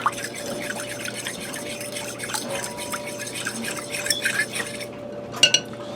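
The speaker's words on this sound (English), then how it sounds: "And you just want to mix that all together in there. Get your salt and your egg incorporated into the water." Salt and an egg being stirred into water for pot pie dough, with soft scraping and faint clinks of a utensil against the bowl, quiet and close, ending with a couple of sharper taps.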